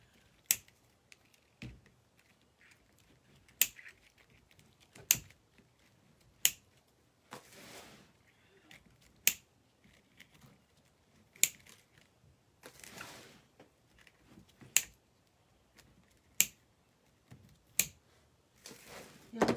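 Scissors cutting pieces for a patriotic wreath, giving a series of sharp, irregular snips spread across the stretch, fairly faint, with occasional soft rustling between cuts.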